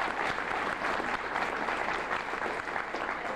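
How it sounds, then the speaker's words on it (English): A room full of guests applauds the master of ceremonies at a service anniversary celebration, steady and fairly loud clapping sustained evenly from start to finish with no pauses. "I want a big round of applause for my Master of Ceremonies."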